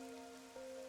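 Steady rain falls in the gloomy city of the Master Detective Archives: Rain Code game, a soft continuous patter under a faint tonal hum, with no one speaking.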